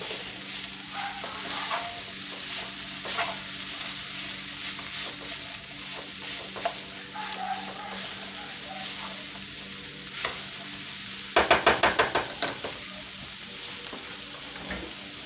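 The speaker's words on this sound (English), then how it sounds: "I'm going to add in my carrots and my garlic. Do that mix." Carrots and garlic stir-frying in a pan: a steady, close sizzle with soft scraping of stirring throughout, and a brief burst of sharp clattering toward the end.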